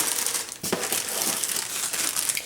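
A plastic parts bag for a Tamiya King Hauler 6x6 RC truck kit crinkles and rustles continuously up close as it is handled, with a few sharper crackles along the way.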